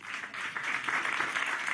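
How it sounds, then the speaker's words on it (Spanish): Audience applause for Eunice, a writer, at a meeting with the cultural sector: a brief, moderately loud wash of many hands clapping, steady throughout. "Eunice, un aplauso para ti."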